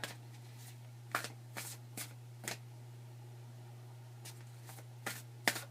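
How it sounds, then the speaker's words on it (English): Quick papery riffles of tarot cards being shuffled come in short bursts with pauses between, close and fairly quiet against a low steady hum. "I'm just going to shuffle till I'm sure I got the right card."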